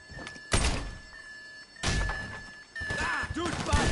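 A door being opened in the GTA V video game: a few heavy, close thunks and thuds spaced across a few seconds, with faint voice-like sounds near the end.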